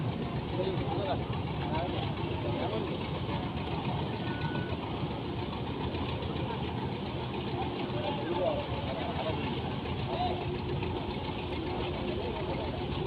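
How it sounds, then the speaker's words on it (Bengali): A single-engine passenger launch motors along a river toward Narayanganj, its engine a steady, continuous low rumble and chug filling the whole stretch at close range, with a faint voice talking underneath. "এক ইঞ্জিন বিশিষ্ট লঞ্চ কিন্তু এগুলো"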